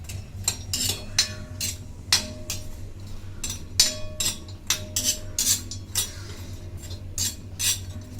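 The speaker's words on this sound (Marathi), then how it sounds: "सुक्या खोबरा चांगला भाजून घ्यायचा।" Dry coconut roasting in a pan, with repeated light scraping and metallic clinks of a spatula stirring against the pan in an irregular rhythm over a low steady hum.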